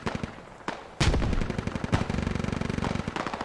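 Heavy machine gun fire in the SquadOps video game, rapid bursts of loud sharp shots in a fast steady rhythm after a few single reports, close and dominant with no talking.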